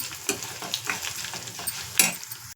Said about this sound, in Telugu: ఇప్పుడు ఈ పచ్చడి ఇందులో వేసేసుకుందాము